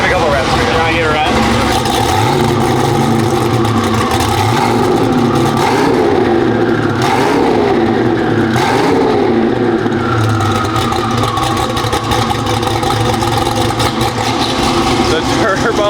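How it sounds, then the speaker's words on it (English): A turbocharged Corvette engine roars loudly and without a break, its revs swelling and easing through the middle of the stretch over a dense, rumbling drone. "The turbos are so loud."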